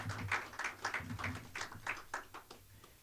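Audience at a Prince George's County budget presentation clapping: a brief, quiet patter of claps heard from a distance, fading out over about three seconds.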